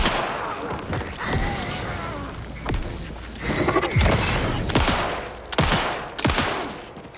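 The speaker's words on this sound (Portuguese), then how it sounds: "Eu tô errando todos os tiros." Gunfire rings out in Alan Wake 2 as a pistol fires repeated sharp cracks in uneven bursts, with louder booming shots amid a tense, noisy game soundscape.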